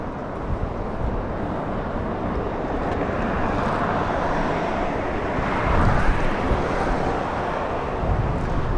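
An airliner takes off from runway 24 left at Los Angeles International Airport. Its broad, steady engine roar fills the whole stretch with a rushing, wind-like texture and swells slightly toward the end.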